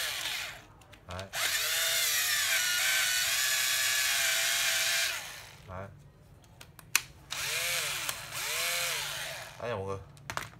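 An old cordless battery drill runs in long whirring bursts, a sustained high whine for several seconds, then shorter revving runs that speed up and slow down, close and loud, with a person talking between bursts.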